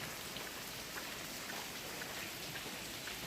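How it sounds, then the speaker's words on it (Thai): Steady rain falling, a dense continuous patter with scattered droplet hits, soft and even throughout. "ฝนตก"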